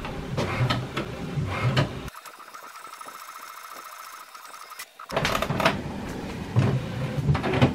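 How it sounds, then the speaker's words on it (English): An HP Smart Tank 5103 inkjet printer prints an alignment page close by. Mechanical whirring and clicking paper-feed bursts sit on either side of a quieter stretch of steady motor hum. No voices are heard. "it will immediately print an alignment page"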